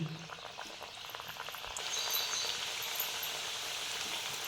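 Pieces of millet dough sweetened with jaggery drop into hot oil and bubble with a dense, steady fry that swells louder partway through and holds at a constant hiss.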